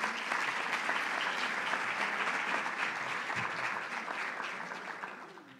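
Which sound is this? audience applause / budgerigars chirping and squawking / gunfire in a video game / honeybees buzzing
audience applause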